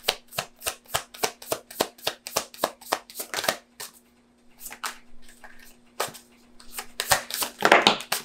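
Tarot cards being shuffled close up: a quick regular run of crisp riffling snaps for about three seconds, a pause with faint rustling, then another burst of shuffling at the end.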